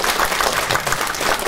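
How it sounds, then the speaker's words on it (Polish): Loud audience applause at a community gathering in Sokółka, honoring a woman called up front, with dense continuous clapping from a crowd and no talk. "Gromkie brawa dla pani Jasi"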